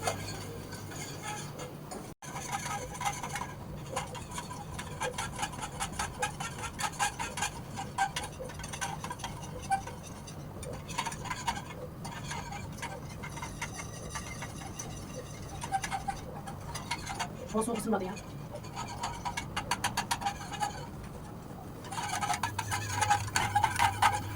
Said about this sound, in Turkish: Bulaşık makinesi çalışıyor ya çok ses yapıyor herhalde.